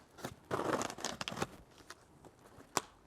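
Packaging for a landmine attachment for a power cage is torn open up close, a rough burst of ripping and crinkling cardboard or plastic followed by quieter rustling and one sharp snap near the end.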